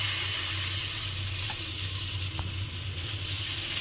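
Batter sizzles steadily in hot oil in a pan, a loud, continuous close-up frying hiss with a few faint clinks.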